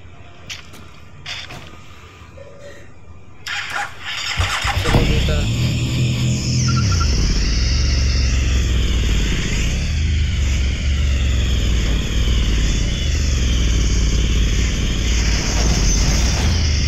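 A motorcycle engine in a Los Angeles ramp challenge video game whines and revs steadily after a few sharp clicks and knocks, with someone talking over it throughout.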